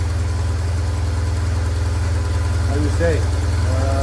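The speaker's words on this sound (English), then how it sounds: "Idling well, keep the temperature, everything's okay." A BMW R1100 RT motorcycle engine idles steadily and close by after idle adjustment, a constant low throb running through the whole stretch while someone talks over it.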